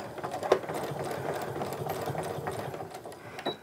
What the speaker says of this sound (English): And then keep on sewing all the way to the end.